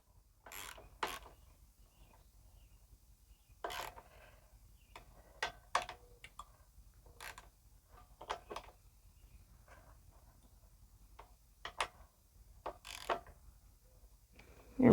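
A hand tool tightens the bolts on a Honda GCV lawnmower carburetor airbox, producing faint, scattered ratcheting clicks and ticks in short bursts, close up in a quiet room.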